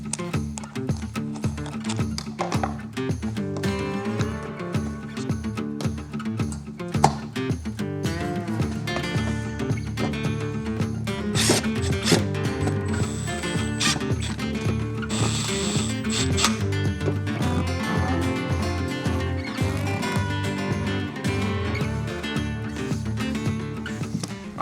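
A ratchet tightens bolts on a Ford Ranger, giving a steady run of repeated mechanical clicks close by, with no talking.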